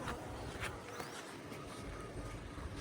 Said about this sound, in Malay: Lebah.